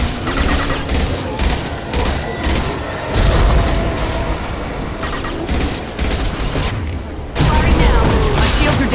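Gunfire rings out during a Mass Effect 2 firefight, a dense, loud stream of shots and booms running through the whole stretch, with a heavier burst near the end.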